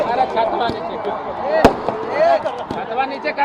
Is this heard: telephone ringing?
no